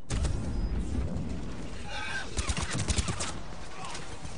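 Gunfire with frozen ammo in the video game Mass Effect 3, a scattered burst of rapid shots and impacts over a constant game background hum, with a person talking during part of it.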